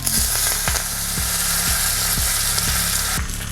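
Curry leaves, mustard seeds, urad dal and a little cumin crackle in hot tempering oil for instant green pea idli, a loud continuous sizzle with several sharp pops spread across, close and alone.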